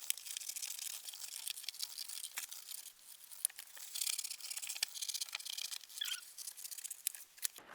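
Knot fabric scissors snip out paper patchwork templates up close, a run of crisp, quick cuts and light paper crinkles with brief pauses between strokes, no talking.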